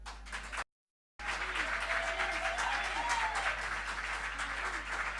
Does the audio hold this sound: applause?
yes